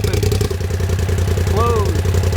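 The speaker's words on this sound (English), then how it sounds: "when they're open is when you really get that good sound. Valves open." A 2021 Polaris RZR Pro XP with Evolution exhaust valves open idles in a deep, steady, throbbing rumble up close, with a short rising-and-falling whistle partway through.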